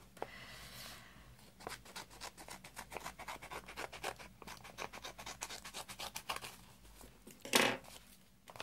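A worn, battered paper envelope is opened by hand. Faint, rapid scratching and rubbing crinkles follow, then a brief louder tear near the end. There is no talking.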